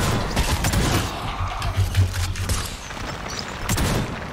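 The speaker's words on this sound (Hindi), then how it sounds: "ये जो बस आ जाए मुंह पे फोड़ूंगा शॉटगन रख के" Shotgun blasts in the video game Necromunda: Hired Gun, several loud booming shots in quick succession over a dense, rumbling combat background with no talk.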